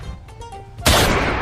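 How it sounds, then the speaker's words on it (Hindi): A gunshot sound effect bursts out abruptly and loudly after a quieter, tonal stretch, its harsh blast ringing on to the end with no voices. "ये कहीं तो गोली चलने की आवाज आई।"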